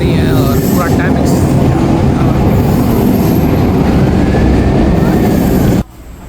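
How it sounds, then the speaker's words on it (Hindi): A Vancouver train arriving at a station: loud, close, continuous rumble with high wheel squeals and a faint voice underneath, cutting off abruptly near the end. "अगर यहाँ पे देखेंगे तो ट्रेन वगैरह यहाँ पे आ रही हैं"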